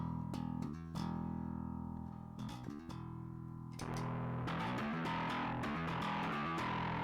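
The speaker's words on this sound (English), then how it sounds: "So that's the distortion pedal by itself." A bass guitar played through a distortion pedal, gritty sustained low notes with plucked attacks and short muted gaps, turning into a busier run of rapid driven notes, loud and up close with no voices.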